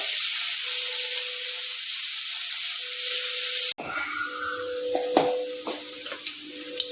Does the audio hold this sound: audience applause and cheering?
no